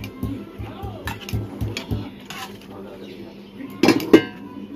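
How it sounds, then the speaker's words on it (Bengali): A ladle stirs dal in a pot, knocking against the rim in a steady series of metallic clinks at first, then pausing before two louder clanks near the end. Faint background noise sits underneath. "এই ডালটা একটু ঘেটে দিই"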